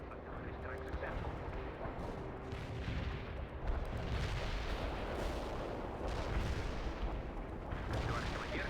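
Artillery strike in World in Conflict: a steady roar of distant shelling and explosions rumbles throughout, building slightly in the second half, with voices speaking over it.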